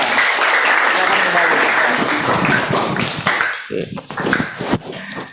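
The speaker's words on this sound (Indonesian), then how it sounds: "tepuk tangannya untuk Novita" Students in a sociology classroom applaud a classmate, a lively burst of many hands that carries for several seconds, then thins out as voices and scattered noises rise near the end.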